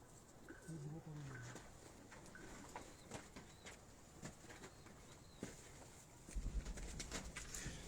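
Performer pigeons of golden and teddy varieties give soft throaty coos that repeat in short bursts early on, faint and close, under quiet background noise with occasional knocks and rustling.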